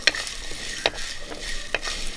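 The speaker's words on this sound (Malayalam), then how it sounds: "ഈ ഉള്ളിയും കുരുമുളകും എല്ലാം നമുക്കൊന്ന് ചെറുതായിട്ടൊന്ന് വറുത്തെടുക്കാം" Shallots, black pepper, garlic and ginger dry-roasting in a pan for a pepper mackerel curry, a soft steady sizzle broken by a few sharp scraping stirs of a spoon, close and fairly quiet, with no talking.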